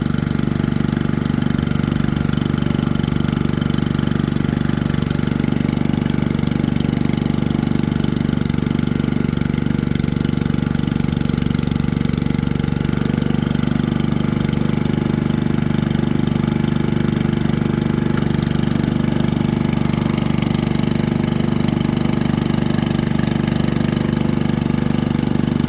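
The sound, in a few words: small engine running partially choked, swapped carburetor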